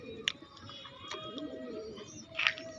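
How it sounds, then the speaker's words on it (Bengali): Pigeons at a pigeon sale coo and call in a few soft bursts, one near the start and a stronger one toward the end, over a steady background murmur of the market. "অনেক পায়রা বিক্রি আছে"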